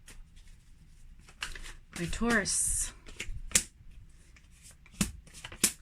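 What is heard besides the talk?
shuffling a tarot card deck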